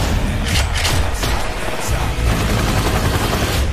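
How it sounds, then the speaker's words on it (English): Rapid automatic gunfire from a movie action scene bursts loudly and continuously throughout, with dense bangs layered over a booming score and crowd-level noise, no clear gaps between shots. "Machine gun"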